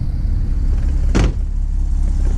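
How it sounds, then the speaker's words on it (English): On a Porsche Boxster convertible, the roof flap lifts with a single short mechanical clunk, heard up close against a steady low hum from the car. "what's happened, as you can see, is the flap has lifted up"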